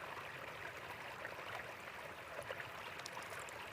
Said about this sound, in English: you continue hearing the fountain flowing softly on the terrace